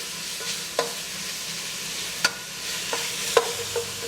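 Meat browns in a pan with a soft, steady sizzle, interrupted by a few sharp scrapes and clinks as it is stirred; close and moderately quiet, no talking.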